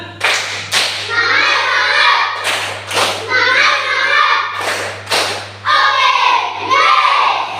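Indonesian schoolchildren stand in class and chant the 'tepuk semangat' clapping rhyme, sharp group claps landing in a steady rhythm between bursts of chanted voices, loud and close.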